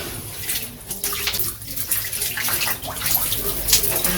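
Tap water running steadily into a sink while a face is washed with cake soap, with soft splashes and rubbing and faint birdsong in the background.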